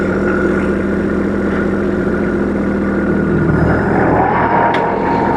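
A heavy Kubota tractor engine rumbles steadily, then its pitch shifts and rises slightly as the tractor begins moving on autopilot, close and continuous.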